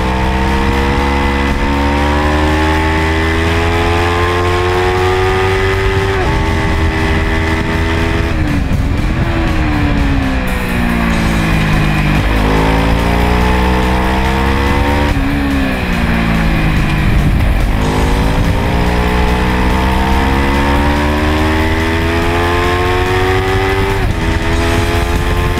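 A 300cc-class sport motorcycle roars around a race track, loud and close, its engine note climbing through repeated rising revs, falling away at gear changes and sweeping back up again without pause.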